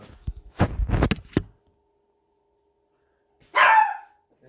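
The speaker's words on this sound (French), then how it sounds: "Ah, le chien qui aboie." A dog barks once in a short burst near the end, alone after a stretch of silence, following a few moments of indoor talking.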